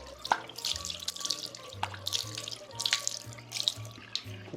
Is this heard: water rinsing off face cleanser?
yes